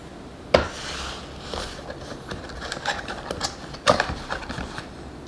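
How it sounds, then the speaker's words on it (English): An AEM boost and air-fuel ratio gauge box being opened: close rustling, scraping and papery handling with two sharper knocks or snaps, moderately loud, with no talk. "But let's go ahead and open up this box."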